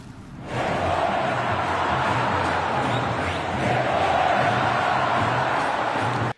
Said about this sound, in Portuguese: torcida do Flamengo protestou